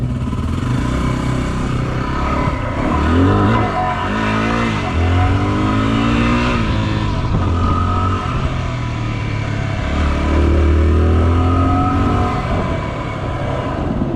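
A Yamaha WR250R dual-sport motorcycle on a street ride, its single-cylinder engine droning close and loud as it revs up through the gears, falls back and pulls again, with steady wind rush throughout.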